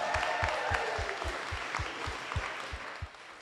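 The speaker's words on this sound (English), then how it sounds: "If we're gonna clap for every thank you, this is gonna take so long" Wedding guests clap after a thank-you speech, a soft, fairly distant patter of many hands held steady for a few seconds beneath some low, regular thumping.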